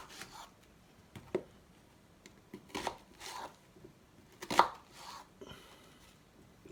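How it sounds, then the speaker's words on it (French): Knife chopping an onion on a cutting board, a handful of sharp separate cuts spread unevenly with pauses between, fairly quiet and close, no talking. "Je rajoute aussi un oignon"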